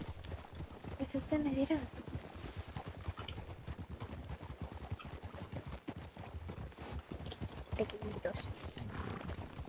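Horse hooves clopping steadily in the RedM roleplay game, a rhythmic walking gait heard under people talking.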